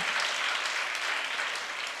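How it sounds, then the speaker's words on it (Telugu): A church congregation claps in praise of God during a Telugu sermon, dense and steady applause filling the whole stretch at an even, sustained level with no voices standing out. "చప్పట్లు కొట్టు దేవుని స్తుతిద్దాం"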